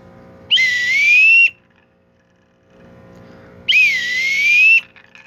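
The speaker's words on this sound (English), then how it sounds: "little whistle here" Two shrill warbling whistle blasts about a second long each, separated by a pause, loud and close, from a small toy whistle on a vintage Fisher-Price horn set.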